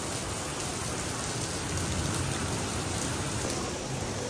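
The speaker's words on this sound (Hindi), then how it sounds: "बहुत तेज़ बारिश हो रही है" A downpour drums outdoors as a thick, constant roar of falling water, close and loud from start to finish without pauses or speech.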